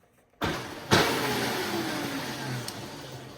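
A custom electric-converted 1985 motorbike with a Sur-Ron throttle spins up from silence with a sudden whine. The motor surges once more, then holds a steady, gradually fading hum. It sounds close, and no one speaks.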